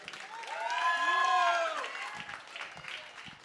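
A live crowd applauds and cheers for a music trio after their set at a collective showcase event, with a swell of whoops and voices rising over the clapping before it thins out.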